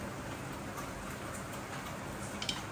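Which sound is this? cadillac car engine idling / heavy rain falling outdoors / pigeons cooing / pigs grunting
heavy rain falling outdoors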